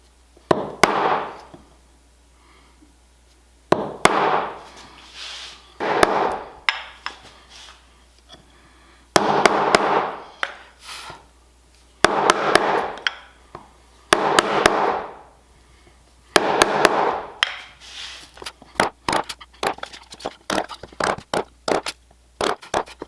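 Sharp, repeated mallet blows on a chisel chop into wood while cutting a hand-made bowtie inlay recess, coming in close, loud bursts of rapid strikes separated by brief pauses.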